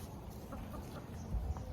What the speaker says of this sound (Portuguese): As galinhas já estão soltas.